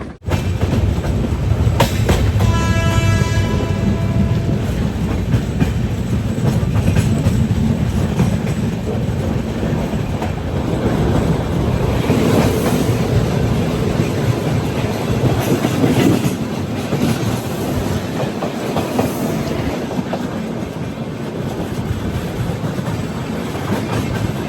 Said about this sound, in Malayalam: ട്രെയിൻ ഇപ്പോൾ കൃഷ്ണരാജപുരം സ്റ്റേഷനിലേക്ക് ഇതാ എത്തുകയാണ്.